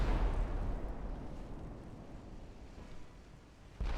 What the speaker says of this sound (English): You've taken a torpedo hit.